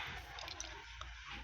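Thin construction adhesive squeezed from a tube for fitting rubber stair nosing drips and squishes in quiet, close wet little sounds with a few soft clicks.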